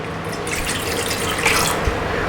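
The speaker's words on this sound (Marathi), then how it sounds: "400 ml पाणी घेतलेलं आहे ते टाकून घेऊया" Roughly 400 ml of water pours into dhokla batter in a soft, steady splashing stream, brief and close, with no talking.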